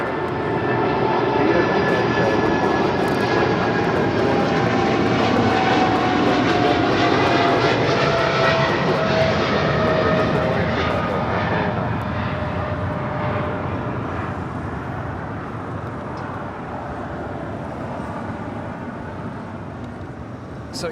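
A jet airliner passes at LAX airport, its loud engine roar building and holding with a rising whine, then slowly fading as it moves away, heard alone without talk.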